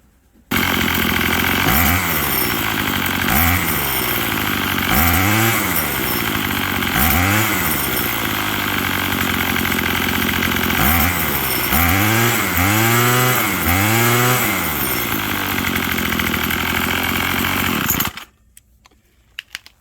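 A small engine, just retuned at the carburetor mixture screw, runs steadily at close range for about eighteen seconds with repeated revs rising and falling, then cuts off into silence.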